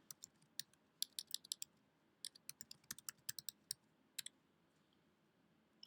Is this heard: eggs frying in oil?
no